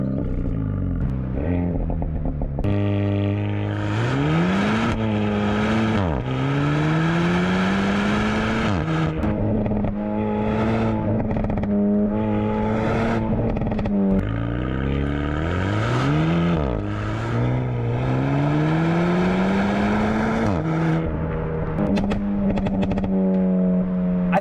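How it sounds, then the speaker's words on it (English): Renault Megane RS Trophy 2020 with a valved dual exhaust, revving loudly and repeatedly, its engine note climbing and falling over and over in close, sustained bursts, with no talking throughout. "this valved exhaust sounds magical."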